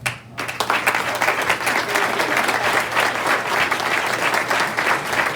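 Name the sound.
warm round of applause for honorees' families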